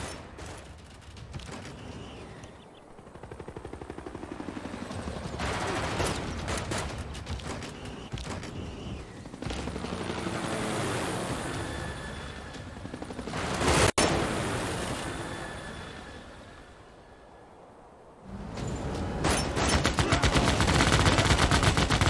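A unit assaults the Egyptian city of Abydos in Civilization VI, its sustained machine-gun fire and rattling volleys swelling and fading in long loud waves, with a sharp crack midway and a renewed burst near the end.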